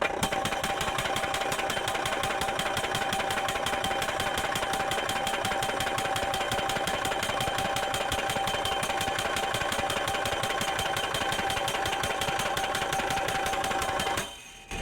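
Steady, loud mechanical pounding from a post pounder driving steel fence posts for a pipe fence beside a building, a rapid continuous hammering with an engine drone that runs unbroken and stops abruptly at the very end.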